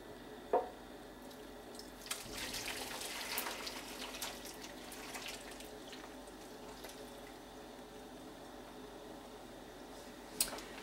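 Liquid poured over chicken thigh quarters in a pan for chicken cacciatore, a soft continuous splashing wash with a few sharper clinks, steady and close throughout.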